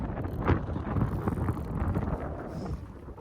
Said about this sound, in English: It is very windy out here right now.